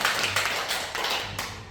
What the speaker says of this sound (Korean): 존경과 감사의 박수를 또 올려주시면 감사하겠습니다.